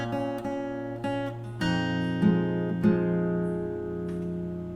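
Fingerstyle acoustic guitar plays a melody, bass notes and plucked treble notes ringing together in a steady, close, clear rhythm with a few sharper accented attacks.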